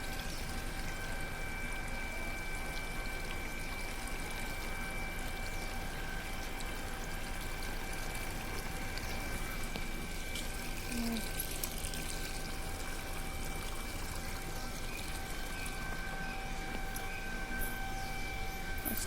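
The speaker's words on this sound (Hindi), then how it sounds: "मशीन में पानी निकल रहा है," Water runs and pours continuously from a leaking kitchen machine, a steady dense splashing wash that stays constant for the whole stretch, with a faint steady hum in the background.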